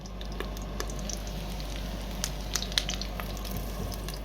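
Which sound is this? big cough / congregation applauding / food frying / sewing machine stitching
food frying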